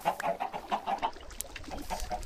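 Chickens on a Minecraft bubble chicken farm cluck in short, repeated, bouncy bursts that overlap one another at close range.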